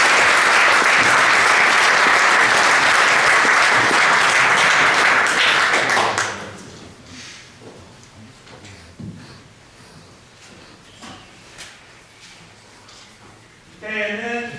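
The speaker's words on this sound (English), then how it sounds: "So give them a round of applause." Loud, dense applause from a crowd at a high school football banquet, sustained for about six seconds before dropping away to a quiet room with scattered faint knocks and murmurs.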